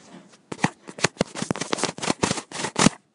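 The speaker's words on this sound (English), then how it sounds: "I hear something rustling in the bushes" Rustling in bushes from the Lego SpongeBob video game: a rapid series of dry, crackly bursts, like leaves being shaken, close and fairly loud with short gaps between rattles, no voices.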